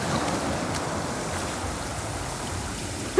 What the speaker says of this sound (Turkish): Mehmet dalgalarla kavga ediyor.